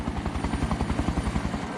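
Helicopter rotor blades thump in a fast, steady rhythm over rugged, steep terrain near an airliner crash site, loud and close with no voices.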